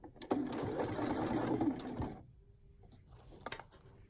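A sewing machine stitches pinafore fabric in a loud, fast mechanical whir for about two seconds, then stops, leaving quiet handling noises and a few soft clicks.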